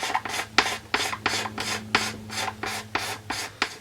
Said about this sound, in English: I'm going to scrape off a little of this dab of clear we put on here